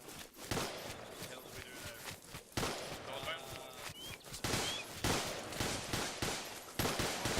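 Gunfire in the military shooter ArmA 2 crackles in rapid, uneven bursts of fairly close shots during a squad training battle, with faint background noise between the volleys.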